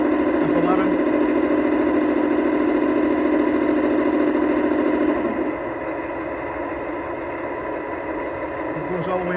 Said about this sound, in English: That's the compressor, F11.